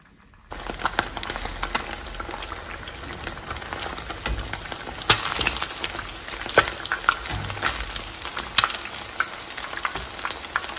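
Floured fish pieces fry in hot oil, giving a steady crackling sizzle that starts after a brief quiet moment and continues close by with scattered sharp pops throughout.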